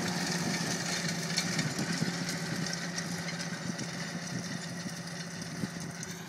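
A John Deere 8530 tractor engine idles while drilling rapeseed, giving a steady, close, continuous low rumble that holds even throughout, with no talk.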